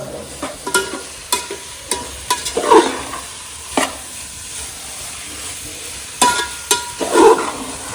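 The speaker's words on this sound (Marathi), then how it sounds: "तेलात छान परतून घ्यायचं" Country rooster meat sizzles and crackles in hot oil on a wood-fired stove, with repeated scraping stirs of a spoon against the pan and bursts of loud spattering.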